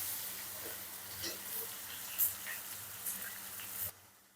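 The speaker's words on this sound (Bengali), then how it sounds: "আলুটা একটু ভাজা ভাজা হয়ে গেলে আমি মশলাগুলো একে একে দিয়ে দেবো। আলুটা একটু ভাজতে থাকি।" Potatoes for a fish curry sizzle gently in oil in a pan with half-fried onions, a soft continuous hiss with occasional stirring clinks, faint and fairly close, no talk.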